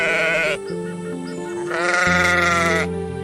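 A black, long-horned, sturdy billy goat bleats loudly and close by in two drawn-out wavering cries, with a brief lower rumble between them and no talking.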